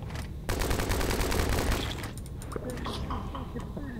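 Rapid bursts of gunfire in the video game Last Tide crackle for several seconds, loud and close, with a voice speaking underneath near the end.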